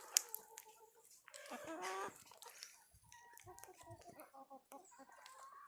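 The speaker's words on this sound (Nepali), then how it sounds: "chicken fight" Roosters squabble in a chicken fight, loud broken clucks and squawks with a strained cry and scuffling, close by and unaccompanied.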